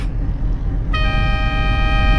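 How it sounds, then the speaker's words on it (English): A car horn sounds one loud, sustained honk partway in, held to the end over a steady engine rumble. "what does my horn even sound like?"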